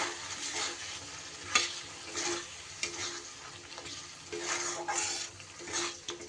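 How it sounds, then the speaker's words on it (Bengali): Spices are stirred and fried with a ground paste of cashew, poppy seed, rice and melon seed in a pan, giving a steady sizzle broken by spoon scrapes and a few sharp clinks. "সব কিছু ভালো করে কষিয়ে নেব যেহেতু কাজু বাটা আছে এবার কিন্তু মশলা আমার লেগে যাবে নিচে তাই কিন্তু ভালো করে নাড়তে হবে"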